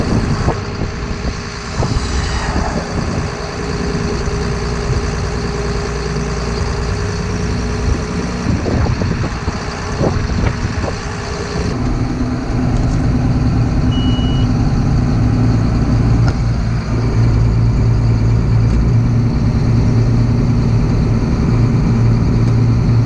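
The 7800 truck runs during a hydraulics test, its engine idling steadily and loudly up close, with a deeper low rumble joining partway through as the load shifts, and no talking.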